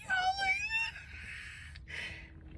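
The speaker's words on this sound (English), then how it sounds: "there's a cat, and I love cats" A cat meows near a house, a few rising and falling high cries up close, followed by softer mewing and faint background noise.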